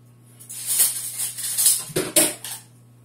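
A spoon scrapes and clinks against a bowl while cobbler dough is stirred with almond milk, giving a run of irregular scraping strokes and sharp taps close by, with no talking.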